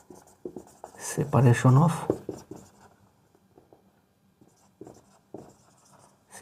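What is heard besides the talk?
writing on a board during a lecture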